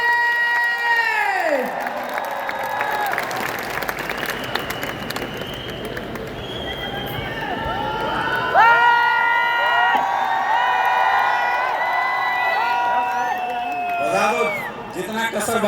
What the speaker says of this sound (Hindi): जोरदार तालियां for the new royal ambassador